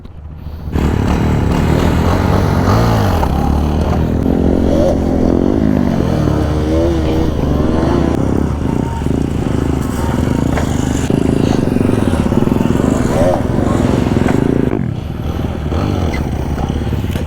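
A motorcycle engine revs hard and holds a loud, rising roar while the bike lifts into a wheelie, with a voice briefly heard over it.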